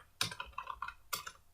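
Quick clusters of computer keyboard keystrokes as code is typed, close and clear, with a short pause between two bursts of clicking; no speech.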